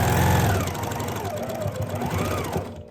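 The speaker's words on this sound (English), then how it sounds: "And then I'm running my presser foot right along the wire to also push it into the seam." A sewing machine stitches steadily with the presser foot running along a wire inside a fabric seam, a close, rapid mechanical whirring and clatter that holds for a few seconds before stopping.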